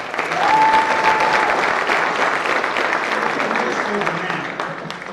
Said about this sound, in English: You guys deserve a round of applause just for what you've done.